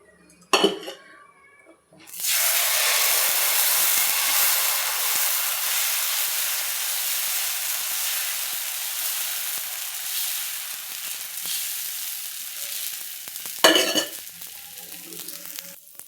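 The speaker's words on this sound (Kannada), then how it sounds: "ಹಂಚು ಕಾದಿದೆ, ದೋಸೆ ಹಾಕ್ತಾಯಿದ್ದೀನಿ" Moong dal dosa batter hits an oiled hot iron griddle and sizzles loudly and steadily for well over ten seconds, framed by brief utensil clatters at the start and near the end, with no talk.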